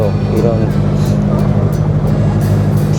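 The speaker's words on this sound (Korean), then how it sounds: "디젤 엔진 소리인가?" A boat's diesel engine drones steadily and loudly throughout, a low rumbling hum on a scenic river gorge trip, with people talking over it.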